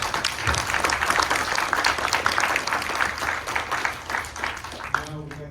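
An audience applauds a panel at a Houston city-planning event, dense continuous clapping filling the room for several seconds before tapering off near the end.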